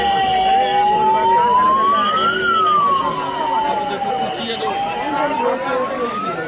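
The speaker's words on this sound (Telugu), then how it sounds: "అంబులెన్స్ అయితే వచ్చింది" An ambulance siren wailing loudly in a dense nighttime crowd at the Maha Kumbh Mela, its pitch sweeping slowly up and down over the hum of the crowd.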